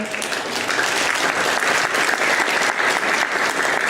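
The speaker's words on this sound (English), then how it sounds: "please give a round of applause again" A lecture audience at an SPE Astana Section event gives a full round of applause, thick continuous clapping, loud and even throughout nearly four seconds with no voices over it.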